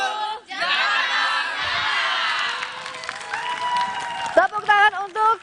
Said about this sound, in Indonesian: Tepuk tangan untuk pendukung paslon nomor urut 3